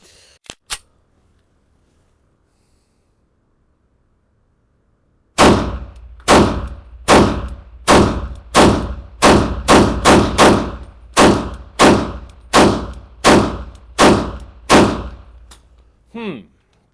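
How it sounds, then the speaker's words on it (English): A Beretta 98 handgun fitted with Vavush Tactical grips fires about fourteen loud, sharp shots in a steady rhythm after a few seconds of near silence. "Shooting with a handgun is all about the hand."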